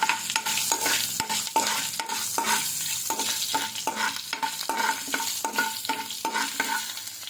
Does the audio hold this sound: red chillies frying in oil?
yes